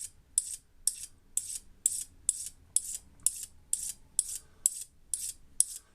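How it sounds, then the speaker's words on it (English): A magnet is stroked along a screwdriver shaft during a Canon T90 camera repair, giving about a dozen evenly spaced, crisp metallic scraping swipes in a steady rhythm, close and alone. "slide the magnet down the screwdriver, 10, 12, 15, 20 times, however many you want"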